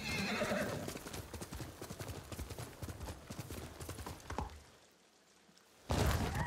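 Horse hooves clip-clop steadily alongside a whinny from a horse in the video game Ghost of Tsushima. The hoofbeats and other game sounds fill the scene, drop to a brief lull, then return in a loud burst at the end.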